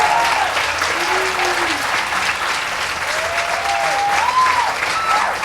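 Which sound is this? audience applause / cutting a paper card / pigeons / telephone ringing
audience applause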